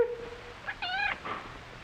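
A cat meows indoors: one clear, rising-and-falling meow, then a fainter short mew after it, fairly close with a quiet room behind it.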